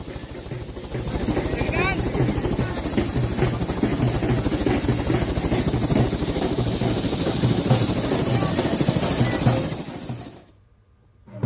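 Helicopter carrying a wedding party in Bihar, a loud, steady rotor and engine drone with rapid chopping pulses, a voice speaking over it, cutting off abruptly near the end.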